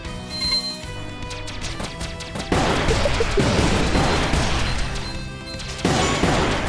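Rapid gunfire and impact blasts from a Star Fox–style video game as the player shoots at an enemy, a dense, loud barrage that swells midway and stays busy throughout, with no talking.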